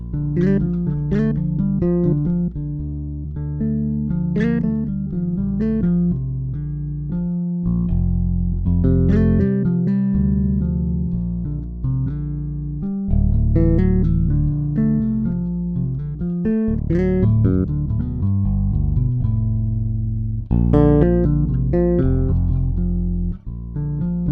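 A keyed string instrument plays a steady stream of resonant, sustained notes, fairly loud and continuous with no voices.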